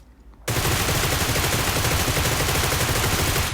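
Fully automatic M416 rifle fire in PUBG Mobile bursts in after a short quiet moment and rattles on unbroken, loud and dense, right up close.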